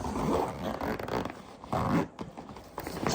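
A zipper runs open and shut in several quick, rasping pulls on the storage pouch of a Zero Breeze Mark 2 portable air conditioner, heard close up with no talking.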